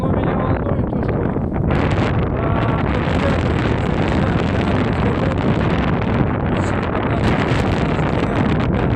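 Strong wind of 9–12 m/s on the Tobol river buffets the microphone in a loud, continuous roar, with gusting rushes and water slapping around a small carp-fishing bait boat throughout.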